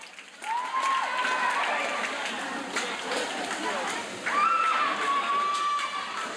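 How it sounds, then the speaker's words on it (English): A crowd cheers and roots on swimmers during the final stretch of a boys' and girls' high school swim meet at an indoor pool, a steady roar of voices with whistles and an announcer speaking over it. "As you hear the crowd rooting them on as they come in for the final"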